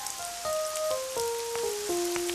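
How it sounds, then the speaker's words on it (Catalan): Rain falls in an animated scene as a steady, close hiss with scattered drop ticks, while a clear stepped melody of descending tones plays over it. "O us agrada la pluja?"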